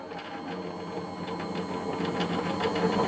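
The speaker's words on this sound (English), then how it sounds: "I just run it through once through the Go Power and Emboss machine" A Go Power and Emboss die cutting machine runs a card through once, giving a steady mechanical whir with light rhythmic clicking that grows slightly louder toward the end.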